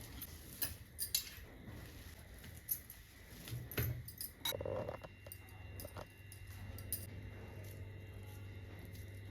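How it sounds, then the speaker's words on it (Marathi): A spoon stirs a sprouted moong cutlet mixture with chillies, chili flakes, salt, coriander and spice mix in a bowl, giving soft scraping and light clinking close by at a quiet level. "कोथिंबीर, सगळं मिक्स करून घ्यायचं असं आहे बघा."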